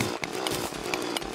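A mining drill in the Terraria video game, a buzzing, chainsaw-like grind with rapid repeating bursts, loud and continuous over game sound.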